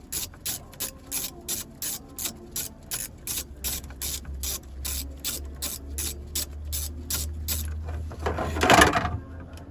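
A screw is backed out of a Freightliner Cascadia truck shifter with a ratcheting tool, producing a long run of quick, evenly spaced metallic clicks, close and moderately loud, ending in a brief rattling scrape.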